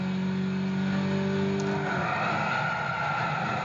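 Race car engine in the Gran Turismo 6 video game, a loud steady harmonic drone that shifts pitch partway through as the car changes gear, alone without talk.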